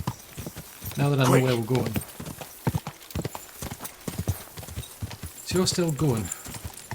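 A horse's hooves pound in a rapid, steady gallop with a loud whinny near the start and another near the end, in the video game Kingdom Come Deliverance 2, while a person talks over it.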